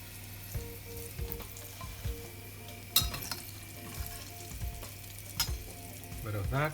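Aubergine and okra pan-frying in oil, a steady sizzle with occasional clinks and stirring scrapes, while a voice speaks briefly over the cooking.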